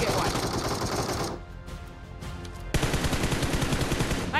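Rapid bursts of gunfire from a Minecraft Trident challenge game, dense and loud, with a short quieter gap before the shooting resumes, game music running underneath.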